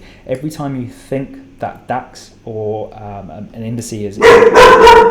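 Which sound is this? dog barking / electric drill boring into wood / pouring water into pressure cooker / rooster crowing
dog barking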